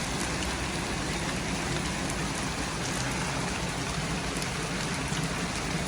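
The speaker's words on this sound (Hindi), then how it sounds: "इतनी बारिश आ चुकी है जी," Heavy rain pours steadily at a home, a dense, even hiss of falling water that stays loud and unbroken throughout.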